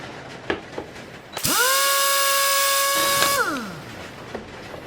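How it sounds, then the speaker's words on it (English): A power drill bores into 1/2 inch wood stock, a loud steady whine that spins up quickly, holds for about two seconds and then winds down, with faint shop clatter before and after. "we're going to go ahead and shoot our drill right into this first hole here and let our drill bottom out right here"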